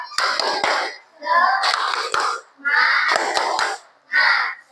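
Schoolchildren in a classroom perform a rhythmic chanted clap routine, four loud group bursts of synchronized claps mixed with shouting voices, separated by brief pauses.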